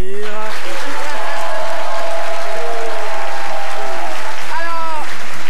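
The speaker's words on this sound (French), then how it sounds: "C'est avec le doyen Cassie que je vous demande d'applaudir." Studio audience of the C'MIDI show bursts into loud, distorted applause mixed with cheering and raised voices, a saturated wall of crowd noise held throughout.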